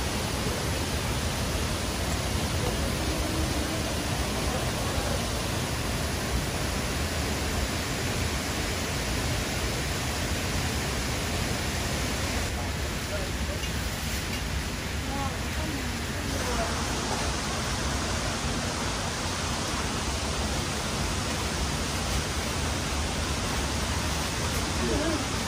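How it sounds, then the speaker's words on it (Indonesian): A river waterfall rushes in a steady, dense roar of falling water, loud and unbroken from nearby, with voices speaking faintly under it. "Sekarang sudah sampai di sungai air terjun."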